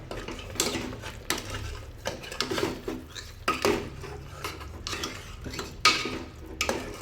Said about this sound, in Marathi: मस्त परतवून घ्यायचं आहे